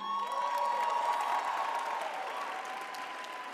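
Audience applause rolls through a university business school graduation ceremony, a sustained wash of many hands clapping with faint cheers, fading slightly toward the end.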